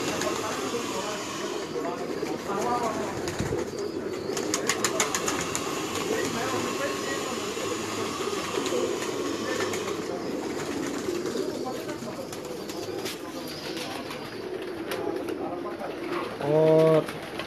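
Pigeons coo on a rooftop, soft rounded calls recurring through the scene at moderate distance, mixed with ambient outdoor noise and people talking, with a louder close coo near the end.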